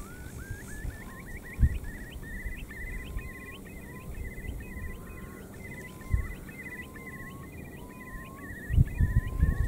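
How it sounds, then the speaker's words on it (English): Curlews call repeatedly in an open field during a lamb-protection shoot, rising bubbling notes trilling steadily from a short distance over low wind rumble, with a few soft thumps. "I like to listen to the curlews."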